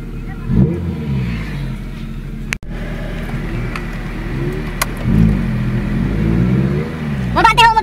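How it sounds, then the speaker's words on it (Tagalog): A Honda Civic SiR engine with VTEC cranks and catches, then revs up and down with a rough rumble; a voice briefly cuts in near the end. "I-start ho natin ang ating engine"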